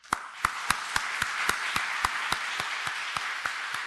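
At a Korean church Wednesday prayer service, a congregation claps in a steady, even rhythm to welcome the pastor, about fourteen sharp, moderately loud claps over a soft bed of scattered applause.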